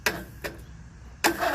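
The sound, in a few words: riding lawn mower engine cranking briefly, failing to start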